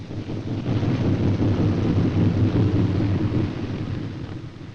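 A B-17 Flying Fortress bomber comes in to land with its left inboard engine dead, a dull steady roar and rumble of engines and wind, fairly loud and unbroken, with no talk.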